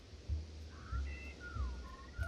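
Villagers in the video game Godus whistling short, faint melodic phrases over a soft rhythmic low pulse, repeating a few times in quick succession.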